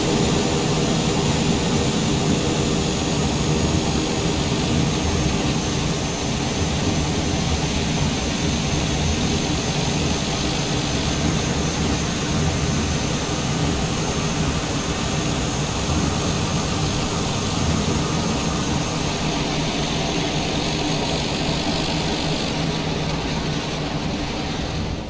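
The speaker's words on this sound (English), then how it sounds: "Just a short taxi out here to our departure runway 32." A TBM 930 turboprop in Microsoft Flight Simulator whines and hums at a steady, even level as it taxis toward the runway, with no talk over the continuous engine drone.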